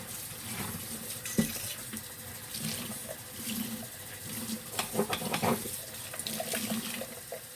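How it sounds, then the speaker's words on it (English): Tap water runs and splashes softly into a sink as a coffee cup is rinsed and squeezed out, a faint steady trickle with light clinks and splashes close by. "I always rinse this thing out, try to squeeze all the stuff out of it."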